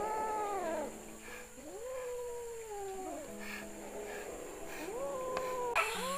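Stray kittens meow loudly and plaintively. There are several drawn-out, rising-and-falling cries, one after another with brief gaps, close by against a faint background hiss.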